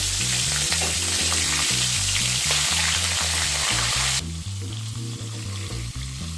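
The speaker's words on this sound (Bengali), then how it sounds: "তেল গরম হয়ে গেলে এর মধ্যে মাছের মুড়ো দিয়ে দেব।" Hilsa fish heads fry in hot mustard oil, giving a loud, steady crackling sizzle that softens near the end, with music playing underneath.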